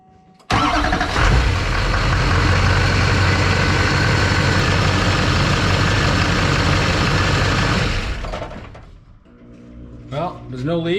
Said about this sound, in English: So I'm going to start the truck now.